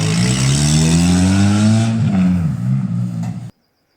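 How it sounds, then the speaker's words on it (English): A loud car engine with virtually no exhaust revs hard with a raw, unmuffled roar, pitch rising and falling, then cuts off abruptly at the end. "I got away with basically having no exhaust on the car that whole time."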